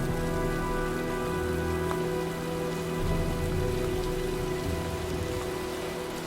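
Steady storm rain in the video game Heavy Rain, a dense, even patter on surfaces that holds at one level for the whole stretch, with no voices.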